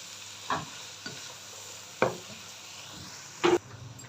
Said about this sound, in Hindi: इन सबको अच्छे से मिक्स कर देंगे